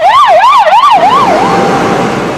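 A fire brigade siren wails loud and close at an LPG tanker crash scene in Ankara, sweeping up and down in several quick rising-and-falling cycles before fading into a broad rumble of traffic and engine noise.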